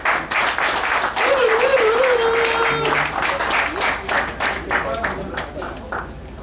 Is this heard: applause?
yes